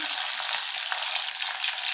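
Sliced onions fry in hot oil in a home kitchen pan, a bright, steady sizzle with crackling pops and the occasional stir, close and continuous with no voices.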